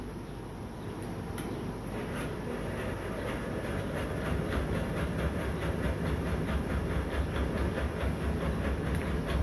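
A workshop machine set to its high range spins slowly while a boat spare wheel is modified. It gives a steady, loud rumbling drone with a regular, rhythmic clatter throughout.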